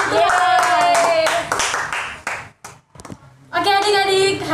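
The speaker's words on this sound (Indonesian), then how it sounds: "mari berikan tepuk tangan untuk Tuhan" Children clap their hands at an online children's church service, a burst of quick claps mixed with excited voices and singing-like calls, loud and close, with a short lull before more voices.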